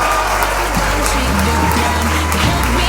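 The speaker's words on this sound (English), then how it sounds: "please join me in one more congratulatory round of applause for all of our 2025 inductees." A gala audience gives a loud, dense round of applause for the 2025 San Antonio Women's Hall of Fame inductees, with continuous clapping from many hands at close range.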